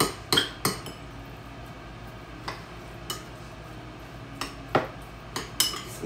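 Utensil stirring cabbage salad in a bowl, a string of sharp clinks and scrapes at an irregular rhythm, close and fairly quiet, with no talk.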